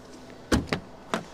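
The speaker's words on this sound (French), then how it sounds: "porte qui ouvre à 90 comme le Rogue. Presque, on va dire 85 degrés." Door of a Nissan Ariya e-4orce electric car opening, three short sharp mechanical clunks and clicks close by, the first strongest, with quiet surroundings between them.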